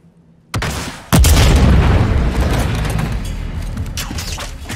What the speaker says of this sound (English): All these explosions and shit.